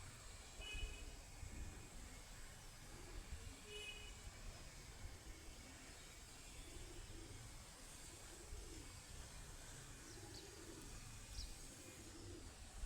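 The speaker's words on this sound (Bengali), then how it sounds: "এই ঠান্ডায় কবুতর কীভাবে টিকাবো বুঝতে পারতেছি না" Pigeons on a rooftop on a cold, windy, drizzly and foggy morning give soft, low, intermittent coos, faint and somewhat distant over a quiet outdoor hush.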